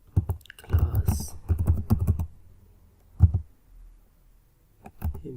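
Rapid clattering keystrokes on a computer keyboard while coding in HTML, CSS and JavaScript come in dense bursts, close and clear, then a lone tap and a pause before a final pair of keys.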